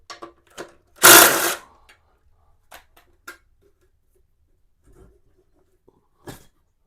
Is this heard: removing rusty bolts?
yes